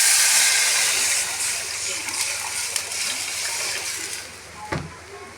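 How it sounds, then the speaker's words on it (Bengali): Water poured into a hot pan of fried crab, bursting at first into a loud, broad hiss of steam and sputtering that slowly eases into a lower bubbling simmer, with one soft knock near the end, heard close. "জল ঢেলে দেবো।"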